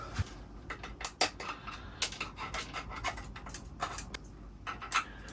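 Branch ends are trimmed off an Itogawa juniper bonsai: scattered crisp snips and small clicks from the cutting tool, irregular and close, over quiet handling noise.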